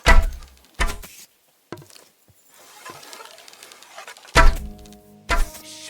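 Arrows striking a target during an archery contest in Kingdom Come Deliverance, heard as several sharp, loud wooden thunks spaced irregularly, with quieter rustling in between.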